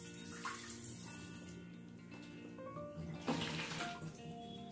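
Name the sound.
washing food in filtered water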